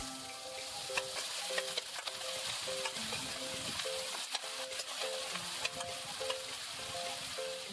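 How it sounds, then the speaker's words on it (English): Chopped onion frying in a pan with cardamom pods and a bay leaf, a steady close sizzle broken by the regular clink and scrape of stirring. "Fry until you get a good aroma and add half a cup of finely chopped onion."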